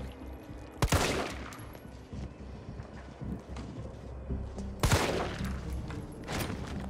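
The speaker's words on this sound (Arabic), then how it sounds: "كل ده رصاص كتير قوي" Gunfire in Resident Evil 3 Remake: two sharp bursts of shots about four seconds apart, with scattered fainter pops and clatter in between.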